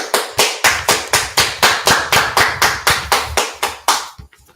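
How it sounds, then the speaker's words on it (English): An audience claps in a run of about fifteen sharp, evenly spaced beats, loud and close, with no talking, then stops abruptly. "All right, let's clap it up."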